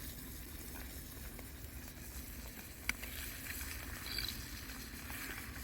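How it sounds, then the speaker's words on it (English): A butter-basted steak sizzles on a Canadian fire candle, a steady, low hiss of frying fat with faint crackles, heard alone at moderate volume. "We're going to continue to baste the steak."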